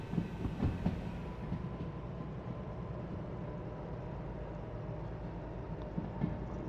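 A train in the simulator game Derail Valley rolls downhill with a steady low rumble of running gear and faint rail clicks, continuous and moderately loud with no talk.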